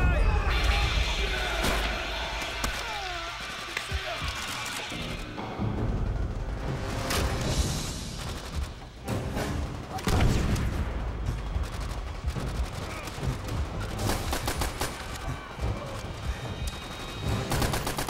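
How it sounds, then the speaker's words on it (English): Demolition charges blow during a Call of Duty: World at War battle, loud blasts and booming impacts rising out of a constant din of gunfire and shouting voices across the whole stretch. "Charges are ready to blow!"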